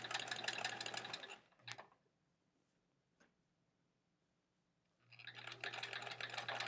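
A sewing machine stitches a zigzag around raw edge appliqué in quilting, a rapid close whirring chatter in two bursts at the start and end, separated by a quiet pause holding a couple of small clicks.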